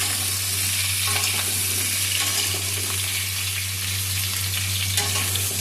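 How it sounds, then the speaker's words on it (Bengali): Potatoes are stirred as they fry in mustard oil, making a constant close sizzle with faint scraping and stirring sounds scattered through it. No one speaks. "দিয়ে এবার একটু নাড়াচাড়া করে নিতে হবে"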